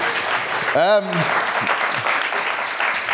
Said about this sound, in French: J'aimerais qu'on les applaudisse encore, ils sont tellement écœurants.